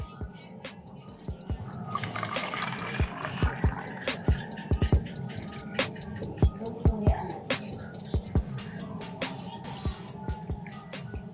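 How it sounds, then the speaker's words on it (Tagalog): Water pours into a 500 ml measuring cup with a steady close trickle, and irregular splashes and drips are scattered through it. "So ato ni siyang sudlag tubig."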